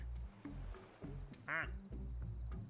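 A plastic duck quacks in Placid Plastic Duck Simulator: one loud, bright quack stands out near the middle, above a steady low game hum and background music.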